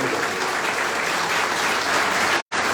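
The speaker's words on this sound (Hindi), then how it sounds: "भैया ताली बजा दीजिए भैया।" A hall audience at a motivational speech in Prayagraj bursts into steady, dense applause, loud and continuous throughout before a brief cut near the end.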